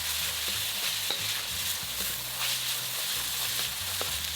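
Ground pork stir-frying in hot oil over high heat, a steady sizzle with scraping stirs and occasional utensil taps close by, no talking.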